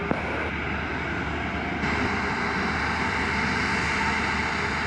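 A Delta airliner roars on takeoff from runway 25 at Montego Bay, a steady, loud, broadband jet engine rush that holds and swells slightly, with no voices.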